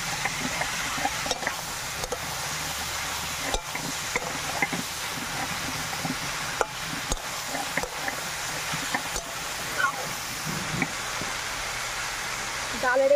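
Ginger paste frying in a pan on a village kitchen fire, a steady low sizzle and hiss with faint stirring scrapes and small clicks, near and continuous.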